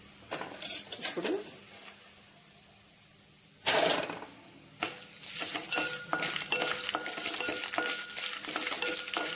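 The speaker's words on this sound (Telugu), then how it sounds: "చూసారండి పోపు అయితే వేగుతూ ఉంది" Spices and chana dal fry in hot oil for tempering, a steady close sizzle and crackle broken by scraping stirs and a few clinks of a utensil against the pan.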